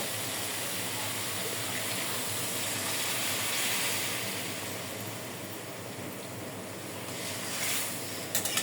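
Water is poured into a cooking pot of spiced, sautéed masala for a fish-head curry with elephant apple, making a continuous, close rushing splash that holds steady for several seconds.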